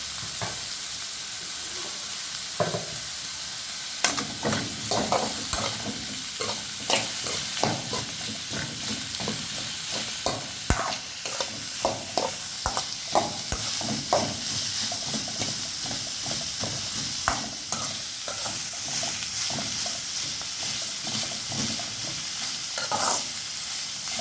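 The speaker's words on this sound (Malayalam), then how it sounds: "ഇതെല്ലാം കൂടെ ഇളക്കി ചേർത്തിട്ടുണ്ട്" Sliced onions frying in a pan while being stirred, a constant close sizzle broken by repeated scraping knocks of a utensil against the pan, irregular but frequent, with no speech.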